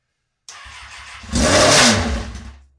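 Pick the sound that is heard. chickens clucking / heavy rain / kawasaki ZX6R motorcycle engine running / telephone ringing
kawasaki ZX6R motorcycle engine running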